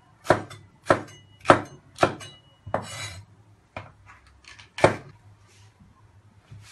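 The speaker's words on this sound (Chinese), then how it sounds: "下面把这个辣椒切成菱形片儿" A knife chopping a chili pepper into diamond-shaped slices on a board, with about seven crisp, evenly spaced chops, close and clear against a quiet background.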